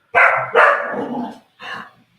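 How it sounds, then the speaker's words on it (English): A dog barks loudly and close, three sharp barks, with the last one shorter and slightly apart, in a cocktail lounge setting. "Uh-oh, there's a dog that's not happy."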